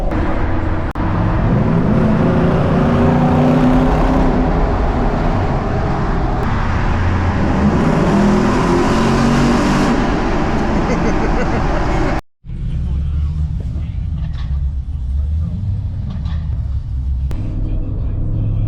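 A modified Nissan Patrol Y62 with a suspension lift drives slowly through a road tunnel on the Gold Coast, giving a steady, loud engine and road rumble with a brief dropout partway through.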